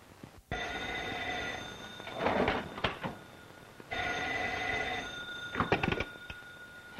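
An old-fashioned telephone rings twice on an outgoing call in a 1941 crime film, each long bell ring followed by a short burst of clatter, separated by a pause, with no talking.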